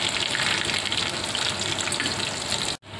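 Chicken cheese rolls fry in oil, a loud, steady, close crackling sizzle that cuts off abruptly near the end.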